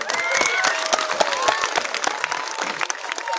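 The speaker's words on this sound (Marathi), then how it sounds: "एकदा जोरदार आयोजन कमिटीसाठी टाळ्या वाजवा." A Buddhist conference audience claps loudly for several seconds, a crowd of many hands making dense crackling applause with some scattered shouts, all close and sustained.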